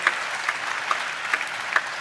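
Congregation clapping in church during a sermon, a steady patter of many hands with a few sharper individual claps standing out at intervals, moderately loud and without talk.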